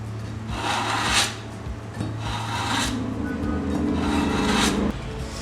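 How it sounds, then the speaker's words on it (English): A kitchen knife is drawn through a handheld sharpener in several slow rasping strokes, each a grinding scrape of steel on abrasive, close and fairly loud with short pauses between passes. "You want to gently pass the knife in the sharpener, alright?"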